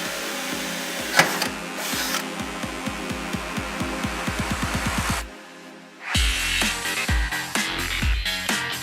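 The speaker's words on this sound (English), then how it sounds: "Using an 11mm drill, make a hole in the earlier noted point of contact with the door bracket." An 11mm drill boring a hole for a door bracket, with repeated short bursts of whirring and grinding that quicken into a rapid run, a brief quiet gap, then heavier drilling resumes.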